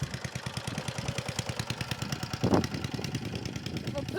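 An old Honda lawn mower engine idles steadily nearby, its even rapid chugging pulse continuing throughout, with one brief louder thump partway through.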